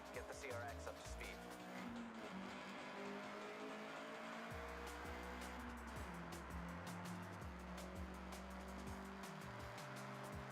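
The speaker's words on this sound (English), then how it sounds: "Alright, get the CRX up to speed." A Honda CRX accelerates in the Forza Horizon racing game, its engine note climbing and dropping through successive gear shifts, steady and close, with tire noise underneath.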